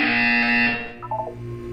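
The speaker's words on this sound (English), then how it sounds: "You will hear a buzzer." A harsh electronic buzzer from the video game Portal 2 sounds loud and steady for under a second, then breaks off, and a short rising series of tones follows.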